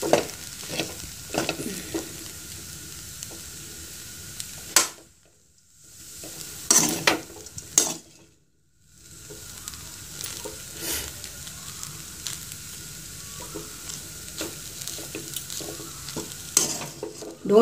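Rice flour dough for idiyappam is stirred and scraped in a pan in soft repeated strokes with a faint sizzle, broken by two brief silences.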